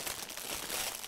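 A plastic bag used as packaging for a replica crinkles briefly and softly, a quick close-up rustle.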